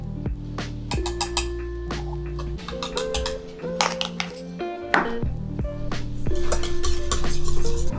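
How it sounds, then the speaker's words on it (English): Ingredients for a cranberry cheese tart filling, including cornstarch, are stirred in a bowl, with clinking of a utensil against the dish and scraping strokes, under background music. "Make sure you mix each ingredient one by one as you add them to ensure that there's no lumps forming in your filling."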